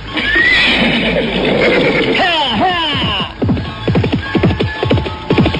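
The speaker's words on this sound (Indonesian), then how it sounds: "Arya Kamandanu segera memutar kudanya dan mengaburkan binatang itu sekencang-kencangnya." A horse whinnies loudly as it is spurred into a gallop, a long shrill neigh followed by rough snorting cries, close and dominant, with a voice briefly underneath.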